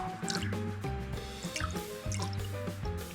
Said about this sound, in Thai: ล้างให้สะอาดนะคะ แล้วก็ผึ่งในตะแกรงให้หมาดๆ